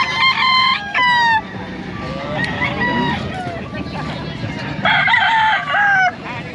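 Several roosters crow loudly and repeatedly among crowds of fowl at a busy pet market in Bocaue, one call overlapping the next, with clucks and faint voices in the background.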